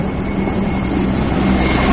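Military helicopters fly low overhead toward an airport, a steady, dense rumble of rotors and engines that holds at a constant loud level without any voices.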